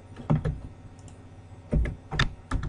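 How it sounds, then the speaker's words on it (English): Bursts of computer keyboard typing, close and fairly loud, with quick clusters of key clicks in three separate flurries and brief pauses between them, no talking. "Must finish typing before MSN loads."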